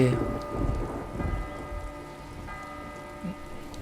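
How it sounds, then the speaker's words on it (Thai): Rain falls steadily in the video game Last Day of June, a continuous patter under a low musical background with no voices. "ฝนตก"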